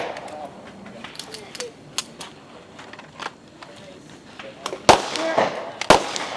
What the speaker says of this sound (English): For pistol, it's going to be about 50 yards out.